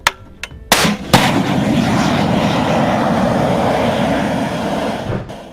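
An anti-tank rocket launches at a Russian armored troop carrier, with sharp booms at the start, then a sustained loud rushing roar of the missile's flight and blast that fades near the end.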